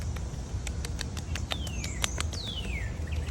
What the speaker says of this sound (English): So I'm listening to the birds